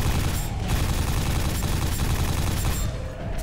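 A nail gun in the shooter game Quake 4 firing in a rapid, relentless stream of sharp metallic shots, loud and close, mixed with a dense action-game din and no speech.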